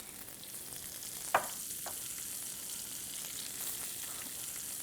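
Diced onions and green, red and yellow peppers hiss steadily in a hot pan alongside sweet potatoes, with one sharp clack from a utensil early on.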